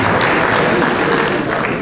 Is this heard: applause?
yes